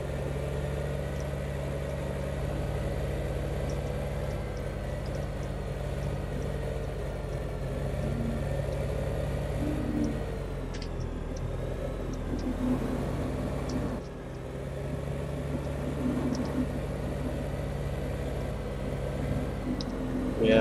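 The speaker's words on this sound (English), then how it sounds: "Got our little 160 horsepower tractor there with the front end loader" A 160 horsepower tractor with a front end loader in Farming Simulator 2015 drones steadily on a farm near a silage silo, its low engine rumble constant and close throughout with slight shifts midway.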